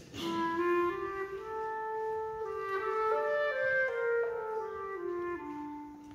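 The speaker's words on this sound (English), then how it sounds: "You also heard at the end maybe Danny Boy." The Danny Boy melody is played as a slow, legato single line in a lower register, alone and at moderate loudness, with no talk over it.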